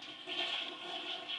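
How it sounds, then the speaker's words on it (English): A toilet mounted in a shower flushes in one short, rushing swirl of water, heard close and alone. "flush."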